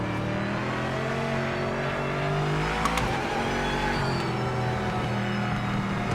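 A race car engine in the driving game Project Motor Racing revs and drones steadily with shifting pitch, loud and close, holding throughout with no talk.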